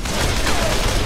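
Rapid burst of video game gunfire in Call of Juarez: The Cartel, a dense, loud fusillade of overlapping shots filling the short moment.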